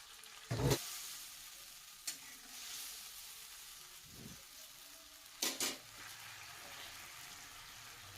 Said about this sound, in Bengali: জিরেটা হালকা করে ভাজা হয়ে যাওয়ার পরে এখানে আমি বানিয়ে রাখা মশলাটাকে অ্যাড করে দিচ্ছি।